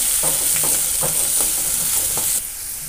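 Soaked chana dal and red chili powder are stirred in a hot pan, giving a loud, steady sizzle with rhythmic scraping strokes of the spoon, and the hiss eases slightly near the end.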